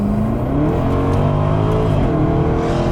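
A Jaguar F-Type SVR's supercharged V8 engine revs hard and loud up close, its deep roar rising and falling steadily with no talking.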